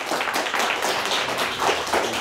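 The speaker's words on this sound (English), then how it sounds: "So again, round of applause for both teams here tonight." Loud, dense applause from an audience cheering both teams at a school quiz match, continuous crisp clapping close by with no talk over it.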